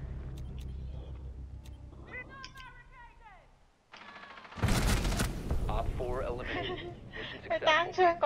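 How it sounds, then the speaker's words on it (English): Gunfire in Rainbow Six Siege: a sharp, loud burst of shots cuts in partway through, following quieter game ambience, with someone talking in Cantonese around it. "我开枪就 headshot 死咗啦"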